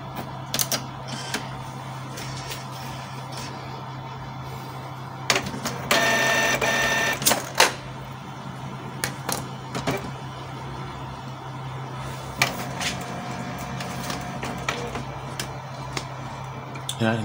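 A Canon or Epson inkjet printer feeds and prints a page in a burst of mechanical whirring and rattling, with scattered clicks and print-head movements before and after. Someone speaks briefly in the background.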